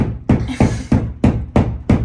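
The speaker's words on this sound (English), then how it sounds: "you get your old anchor and you hammer it in" Six sharp hammer blows driving an anchor into a wall in a steady rhythm, close and loud, each strike ringing briefly before the next.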